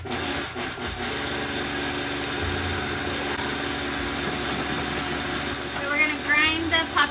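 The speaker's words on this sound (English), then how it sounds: "Grind the poppy seeds till they're fine." Electric grinder whirring steadily as it grinds poppy seeds fine, a continuous loud buzzing drone throughout, with a brief voice near the end.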